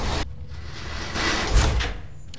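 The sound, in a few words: vault door unlocking and opening in video game Fallout 3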